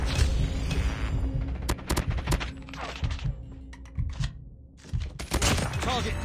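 Gunfire in Call of Duty Mobile multiplayer, sharp shots and bursts scattered through a dense, busy mix of game effects, loud and close, with a short lull near the end before firing resumes.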